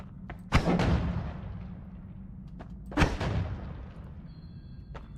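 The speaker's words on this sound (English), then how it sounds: "that's a cannon" Two heavy cannon blasts from a video game, a sharp boom near the half-second mark and another at three seconds, each with a long rumbling decay over a low steady background hum.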